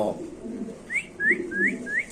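Soft coos from a black male pigeon repeat four times in quick succession, rising whistle-like notes close by, over a low murmur of background noise.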